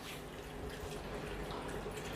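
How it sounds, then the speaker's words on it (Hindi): Water draining out of an Enagic Kangen water ionizer (JRII, JRIV or SD501) after its e-cleaning cycle, a steady soft trickle and drip running continuously at low level with no talk. "ये देखिए पानी आपने निकाल दिया"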